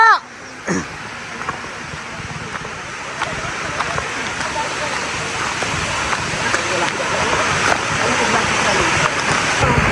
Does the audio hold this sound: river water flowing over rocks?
yes